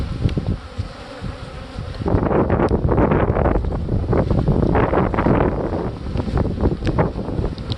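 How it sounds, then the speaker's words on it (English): Strong wind buffets the microphone in loud, gusty rumbles, with honeybees buzzing around beehives mixed into the roar throughout. "Very windy today."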